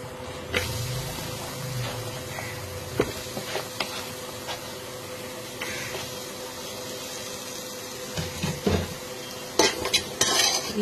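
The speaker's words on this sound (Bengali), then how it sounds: "সমস্ত কিছু অ্যাড করে ঘিতে ফ্রাই করে নেব।" Vegetables and soaked daliya frying in ghee in a pan, with a steady low sizzle under repeated clinks and scrapes of a spoon stirring against the pan, close by and without talk.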